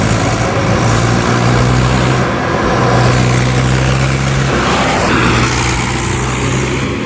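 An empty tractor with power steering, pulling no load, runs nearby with a loud, steady engine drone that holds throughout without a break, and no voices over it.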